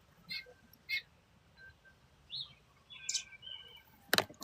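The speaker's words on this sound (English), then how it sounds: "I'm going to go take care of this bird." A bird that landed on a person, giving several short, separate chirps and tweets at intervals, fairly near, ending with a sharper, louder burst over a quiet background.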